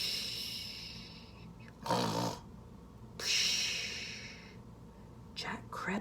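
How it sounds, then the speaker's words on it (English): A sleeping giant snores loudly in a few drawn-out, rasping snorts spaced seconds apart, with quiet breathy gaps between them. "soon he began to snore"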